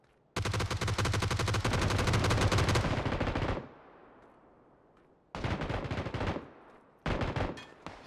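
Bursts of rapid automatic gunfire from a fight in the battle royale game PUBG, a long loud sustained volley followed by two shorter bursts after a pause.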